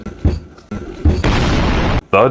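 A heavy aluminum Bang & Olufsen Balance speaker set down on a surface, giving a couple of dull close thuds followed by a sustained broadband rumble and a brief tonal sound at the end, with no talk.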